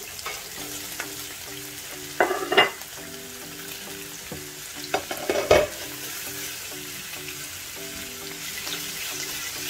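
Well-browned beef with freshly added chopped onions sizzling steadily in a pan, interrupted by two bursts of utensil scraping and stirring, close up with no talking.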